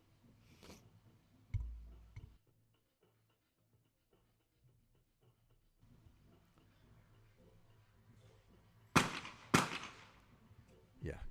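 Shotgun blasts at a skeet target during a mixed team final at a European shotgun championship in Leobersdorf, Austria, with two sharp reports near the end following a quieter stretch with a muffled thump.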